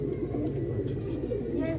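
Desi makhoiya pigeons kept in Ludhiana give low, soft cooing close by over a steady background hum. A voice can be heard faintly talking beneath the cooing.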